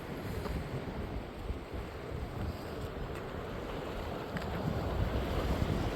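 Sea waves wash steadily onto the shore at Baileys Bay, Bermuda, a continuous broad surf roar with some wind buffeting the microphone, swelling slightly louder toward the end, with no voices.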